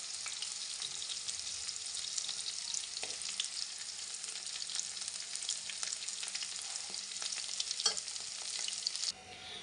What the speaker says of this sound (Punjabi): ਹਲਕੀ ਹਲਕੀ ਫਰਾਈ ਕਰ ਲਈ ਆਪਾਂ ਨੇ